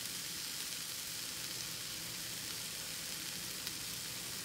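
Cheese steak meat sizzles steadily on a griddle turned down to warm, a constant close hiss with faint crackle and no breaks.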